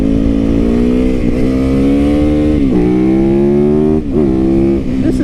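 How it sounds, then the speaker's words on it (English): A 2019 Yamaha YZ450FX, made street legal as a supermoto, is ridden with its engine loud and close. It drones in a strong steady tone, with brief dips and pitch jumps as the rider shifts gears and rolls the throttle back on. "Let's go have some fun on my Supermoto"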